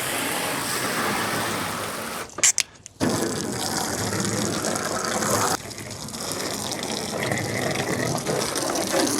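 Water is splashed and sprayed over a Crafter van under conversion to check for leaks: a steady gushing spray, broken by a brief pause with clattery bursts, then resuming loudly.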